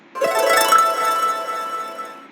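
A bright, shimmering Scratch magic wand sparkle effect swells in, twinkling with many high chime-like tones, then slowly fades out over a couple of seconds.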